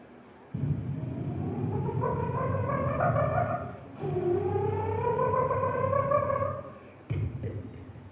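A voice mimics an auto-rickshaw engine at a Kerala school arts festival mimicry competition: loud, close, buzzy revving whose pitch climbs and falls in two long sweeps, then a brief restart.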